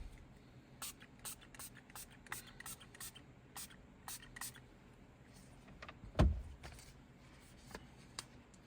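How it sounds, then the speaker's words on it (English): Short bursts of a hand spray bottle misting solution onto the dashboard screen of a Ram 1500 during a screen protector install, a string of quiet hissing squirts with handling noise and one louder knock. "So we are going to spray more solution on the screen."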